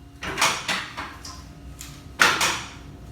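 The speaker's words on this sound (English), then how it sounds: "And so I'm going to bring your machine over." A wheeled X-ray machine is rolled into position for a barium enema, giving a series of clunks and rattles with a sharp knock near the end, heard nearby without talk.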